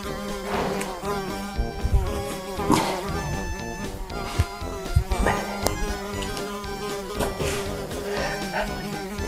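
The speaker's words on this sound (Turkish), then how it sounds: "Burada çok fazla sinek var." Flies buzzing close by at an outdoor picnic in shifting, droning waves that rise and fall continuously, with no talking.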